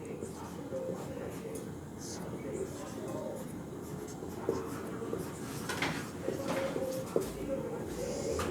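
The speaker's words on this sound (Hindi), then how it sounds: "तो पहले इसका डेफिनेशन लिख लीजिए।" Pen or pencil scratching on paper while a definition is written down in a math lesson, a soft steady scribble heard under a teacher's ongoing talk.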